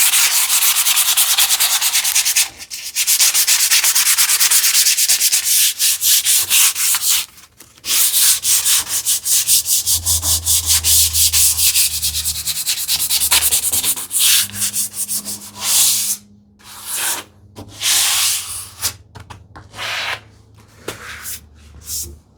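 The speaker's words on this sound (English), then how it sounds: "Let me do the sanding also here." Sandpaper rubs by hand across the wood of a TV unit built with hand tools, in long continuous scratchy strokes with brief pauses, close and loud.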